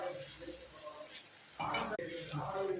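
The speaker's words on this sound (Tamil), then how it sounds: "இந்த மாதிரி கரண்டி போட்டு கலரி விட்டால் எல்லாமே தனித்தனியாக வந்துடும்" Kara sev frying in hot oil sizzles steadily while a ladle stirs it, with a louder burst of bubbling and scraping partway through, close and moderately quiet under soft background talk.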